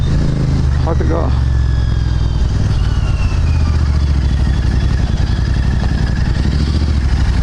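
A Royal Enfield Himalayan 450 motorcycle engine runs steadily and loud throughout while riding, with low rumbling and constant wind noise, and a brief voice heard near the start.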